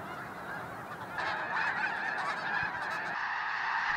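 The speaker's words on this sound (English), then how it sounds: "this lake is almost entirely covered by snow geese, they keep on coming" A huge flock of migrating snow geese crowds a lake, honking in a dense, continuous chorus that swells a little louder partway through, with no talking.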